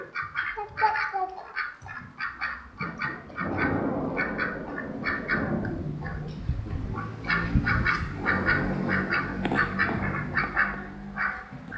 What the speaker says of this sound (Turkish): Ördekler mamaları bitirmeyin de ya.